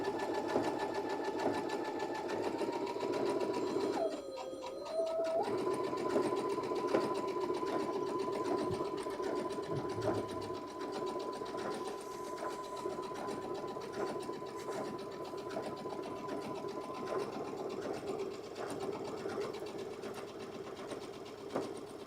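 A sewing machine runs steadily as it stitches along the hem of a dress, a continuous close mechanical whir with a brief pause and change in pitch early on, then running on evenly.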